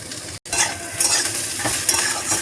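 Bitter gourd is stirred and fried in a pan with a little oil: a close, steady sizzle with scraping spatula strokes, broken by one brief silent gap near the start, with no talking.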